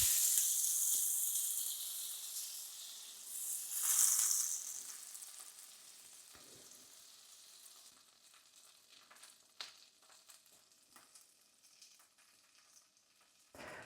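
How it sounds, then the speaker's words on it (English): Butter melts in a hot pan with a steady, soft, hissing sizzle that swells briefly and then settles into faint crackles, alone and close. "I'm going to add about 15 grams of butter, just to melt."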